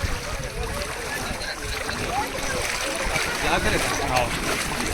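A small boat moves across the water near Somnath, with a steady wash of splashing and lapping under a constant noisy background.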